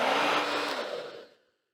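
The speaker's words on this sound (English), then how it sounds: "This dryer actually blows colder air when doing the cool shot than this one." Twin Turbo hair dryer blowing on its cool-shot setting, a close, steady airy whoosh that fades out after about a second and a half, then silence.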